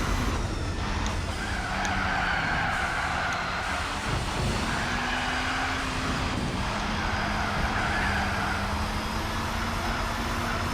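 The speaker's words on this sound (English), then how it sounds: "So funny hearing the turbo huffing in this car." Race car in Gran Turismo 4 with turbo huffing and tyres skidding, a continuous loud engine drone with rising and falling whine and repeated screeching tyre noise.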